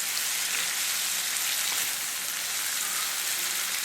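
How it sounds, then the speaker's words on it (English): Onion and peppers sautéing in a pan over low to medium heat for Philly cheesesteak sliders, a steady crackling sizzle that stays even and fairly loud throughout with no voices. "So you're going to stir this up and saute it for about 10 minutes or till the onion and"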